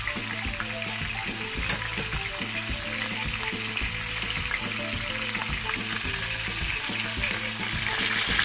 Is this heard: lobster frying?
yes